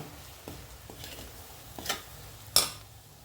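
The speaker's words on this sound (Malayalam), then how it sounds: "ആ പൊടി ഇട്ട് കൊടുക്കുകയാണ് എന്നിട്ടിത് നല്ലപോലെ ഒരു രണ്ട് മിനിറ്റ് നേരം നമുക്കിതൊന്ന് മിക്സ് ചെയ്ത് കൊടുക്കാം" Spice powder is stirred in a hot pan, heard as a faint sizzle with a few soft scrapes and light clinks of a utensil, ending in one sharper knock.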